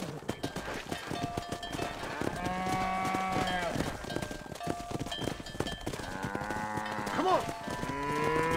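Cattle mooing during a cow herd drive in Red Dead Redemption: several drawn-out moos rise over steady hoof clip-clop and horse movement, some near and some farther off.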